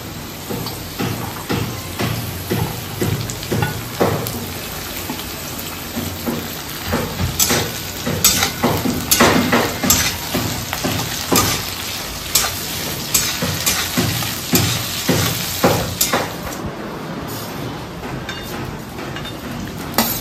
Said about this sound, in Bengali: গাজর আর বিনসটা ভাজা ভাজা হয়ে এলে তারপর কাজু কিশমিশ দিতে হবে